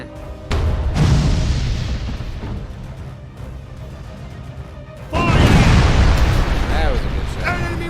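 Ship cannons firing in the naval combat game Furious Seas, heard as two heavy booming blasts, the louder one near the middle, each followed by rumbling crash and debris, with a player talking between shots.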